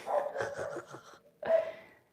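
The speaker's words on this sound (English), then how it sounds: "I don't mind her barking." A dog barks in two bursts, a run of rapid close barks followed after a short pause by one more loud bark that trails off.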